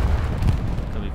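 A grenade blast in the World War II shooter Hell Let Loose, a short, loud, low boom with rumbling aftermath.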